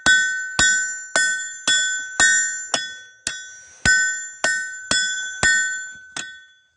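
A hammer strikes hot metal on an anvil during a first blacksmithing attempt, ringing bright metallic clangs at a steady rhythm, about a dozen blows close up, each one decaying briefly before the next.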